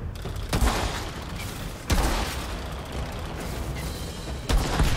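Gunfire in the video game Outriders: a few sharp, loud shots spaced apart over a constant dense background rumble of game noise.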